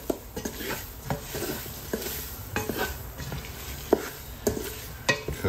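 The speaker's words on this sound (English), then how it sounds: "Mix them up, use them to kind of break up some of the stuff on the bottom too." Fish chowder ingredients stirred and sautéed with aromatics in a pot over a steady sizzle, with a utensil scraping and clacking against the bottom in irregular close taps.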